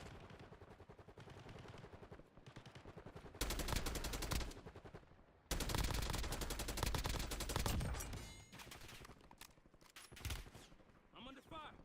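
Rapid video game gunfire crackles in loud, dense bursts, swelling into heavy sustained volleys mid-way before thinning into scattered shots, with voices talking at times.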